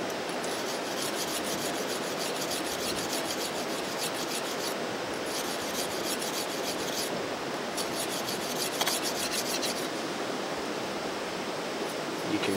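A file rasps back and forth along the steel spine of an ESEE 6 knife, giving a continuous, steady scraping that stays close and even for about twelve seconds.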